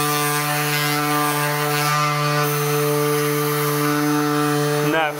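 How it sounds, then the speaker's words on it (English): A steady electric sander drone with a strong hum, sanding panel moldings, running continuously and close by, ending with a brief shift in pitch at the end. "it makes quick work of sanding these panel moldings"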